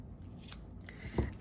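Scissors trimming twine on a gift tag for a hot cocoa gift package, a faint, quiet scene ending in one short, crisp snip.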